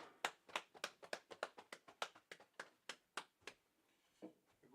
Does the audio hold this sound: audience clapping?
yes